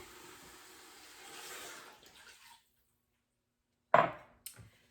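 Water poured into a multi-cooker pot for vegetable pho broth makes a steady rushing splash for a couple of seconds, then stops; after a pause come two sharp knocks.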